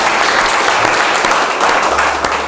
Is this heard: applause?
yes